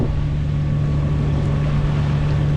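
A harbor patrol boat motoring under its own power in LA Harbor, a steady low engine drone with a constant hum, heard continuously and moderately loud with wind and water noise around it, no voices.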